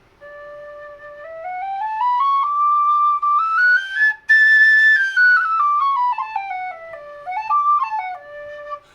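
A Chris Wall PVC whistle plays a clear, breathy melody that climbs up a scale and comes back down, ending with a few quick ornamented notes, close and fairly soft.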